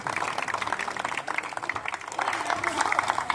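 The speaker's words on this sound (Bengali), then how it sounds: "জয়ন্তদাকে একবার জোরে হাততালি হয়ে যাক জয়ন্তদার জন্য" An audience at a Kolkata football event claps and cheers for Jayanta Sen, a loud, dense patter of applause that swells toward the end.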